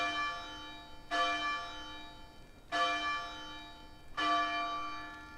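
A bell in ARK: Scorched Earth rings three times at steady intervals, each loud metallic strike leaving a bright, shimmering tone that slowly fades before the next hit, with no voices present.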